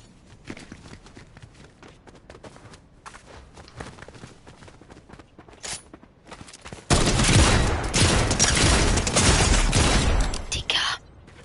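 Dense, loud bursts of video game gunfire erupt halfway through and keep going steadily, after a quieter stretch of softer game noises and footsteps.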